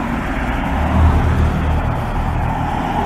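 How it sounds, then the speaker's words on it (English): Evening road traffic rolls past a blue building in Bedford, Pennsylvania after heavy rain, a steady broadband roar of cars and larger vehicles with a louder pass swelling near the one-second mark, no voices. "Got the traffic here going."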